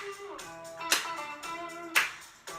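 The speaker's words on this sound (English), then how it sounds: "You can clap them high" Two sharp hand claps raised high in a seated dance class land about a second apart over soft backing music.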